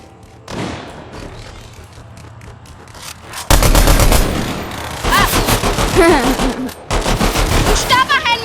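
Bursts of gunfire ring out in a Fortnite match, scattered shots at first and then dense rapid volleys, with excited Danish voices talking and shouting over the shooting.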